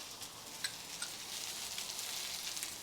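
Onions browning in a pan with paprika, cayenne, cumin, mustard seed and thyme for a lamb stew, giving a soft, steady sizzle with a few small pops and crackles, fairly quiet and close.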